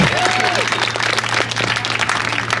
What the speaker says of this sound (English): You know, it is a live performance. You can clap anytime.